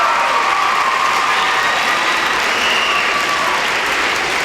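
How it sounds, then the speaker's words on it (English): Steady, loud applause from a crowd at a Mr. Parkland pageant for the contestants and their escorts, continuous dense clapping with a few cheers mixed in and no pause throughout. "Can we please have a round of applause for all of our contestants and their escorts?"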